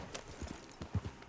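Hoofbeats of a horse named Duque galloping in Red Dead Redemption 2, a short burst of a few heavy thuds close by, with no talking.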